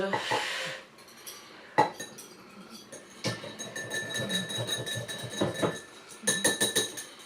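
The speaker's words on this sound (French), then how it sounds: "Donc, on mélange un jus avec de la compote" Juice and fruit compote mixed in a dish, with a spoon clinking and scraping against it in a steady close rhythm and a few sharper taps, no speech.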